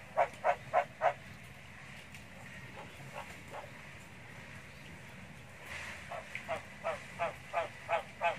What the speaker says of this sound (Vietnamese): Ếch đực của mình mở ra nói chuyện cho nó sung nó kêu.